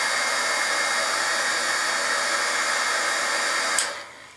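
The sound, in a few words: heat tool heating embossing paste until it bubbles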